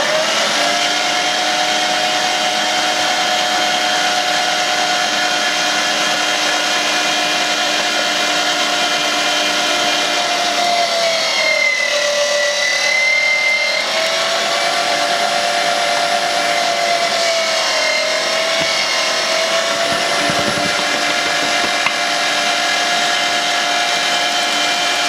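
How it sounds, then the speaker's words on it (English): An electric meat grinder forces potato through after grinding suet. Its loud, continuous motor whine holds steady, then dips briefly in pitch midway as the load changes, with no talking. "So I'm just going to start this up and grind that potato through there to clean it out."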